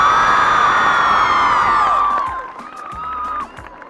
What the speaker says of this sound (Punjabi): ਇੱਕ ਵਾਰ ਜ਼ੋਰਦਾਰ ਤਾੜੀਆਂ ਦੇ